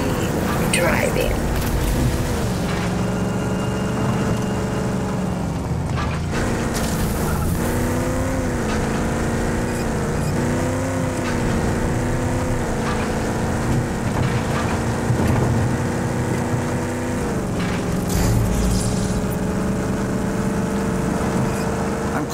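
A car driven in the video game RAGE 2 gives off a steady, loud engine drone. Its pitch rises and falls as the vehicle speeds up and eases off over a continuous rumbling bed.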